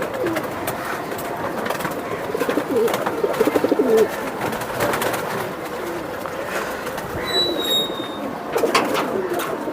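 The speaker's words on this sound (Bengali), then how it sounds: "সিলভার লাইনের কবুতর তো।" Silver line pigeons coo at a pigeon market, with soft, rolling, close coos repeating under a busy background, alongside other bird sounds and a brief thin whistle near the end.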